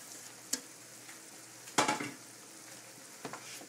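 Vegetables and tofu for pancit bihon are stir-fried over medium-high heat, with a low sizzle broken by a few sharp scrapes and clatters of a utensil against the pan, no talking.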